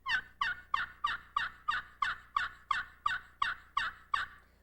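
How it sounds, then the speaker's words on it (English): A Little Deuce 2 slate friction turkey call, small and mellow in tone, makes a run of about a dozen evenly spaced yelps, close and clear with no other sounds. "The Little Deuce 2 will be the first slate call we talk about"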